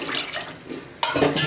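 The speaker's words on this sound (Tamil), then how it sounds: "இன்னும் 3 டம்ளர் தண்ணி நம்ம இதில் ஊற்றணும்." Water poured from a tumbler into a pot of pulao base with ground coriander paste, a sudden splashing burst starting near the end, close and fairly loud after a quieter stretch of kitchen sound.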